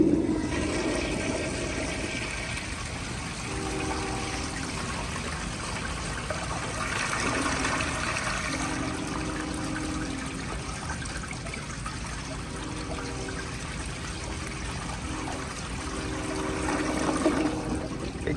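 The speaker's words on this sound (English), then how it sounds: "But here is another flush." A 1974 Crane Santon toilet flushes with a steady, loud rush of water that swirls and gurgles for many seconds, then surges again near the end, with no voices over it.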